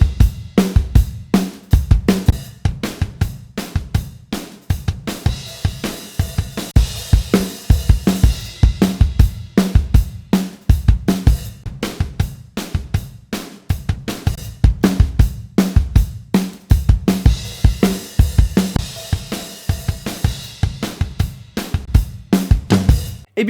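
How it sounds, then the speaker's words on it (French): Drum kit groove played twice, first with the microphones in phase and then out of phase, the two takes giving a steady, close, punchy beat of kick, snare and cymbals with no talking. "réécoutons une dernière fois ces deux versions de la batterie"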